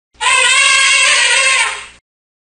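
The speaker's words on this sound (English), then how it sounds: "Elephant." An elephant trumpets in a single loud, harsh blast lasting nearly two seconds, steady and close, rising sharply and ending abruptly.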